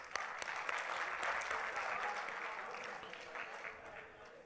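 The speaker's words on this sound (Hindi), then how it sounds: "तो आप लोग सबसे पहले अपने लिए तालियां बजाइए खूब" Audience applause fills a hall at an Urdu poetry mushaira in Doha, Qatar, a continuous even wash of clapping from many hands, moderately distant and sustained throughout.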